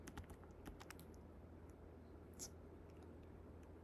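Computer keyboard typing during a coding session, a string of quick soft clicks in irregular bursts, fairly close but quiet over a steady low hum.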